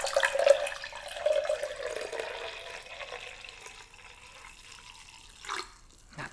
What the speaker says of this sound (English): So I'm gonna pour some tea in that